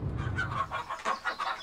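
Chickens cluck at a farm, a run of short, choppy clucks in an irregular rhythm, close and fairly loud with no talk over them.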